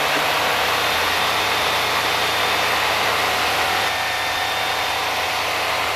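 A CTLS light aircraft's engine drones steadily in flight, a constant broadband roar with wind noise that holds unchanged from start to end, no talk over it.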